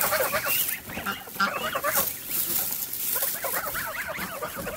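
Geese honk and cackle repeatedly in a busy, close flock, calls overlapping continuously with some rustling in the background.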